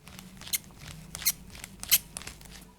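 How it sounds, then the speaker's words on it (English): The plastic size-extension joints of a Fnatic REACT gaming headset creak and click as they are adjusted, giving three sharp, faint ticks at steady intervals over quieter rubbing noises, close up and with no talking. "unfortunately do make a bit of noise right at the joints"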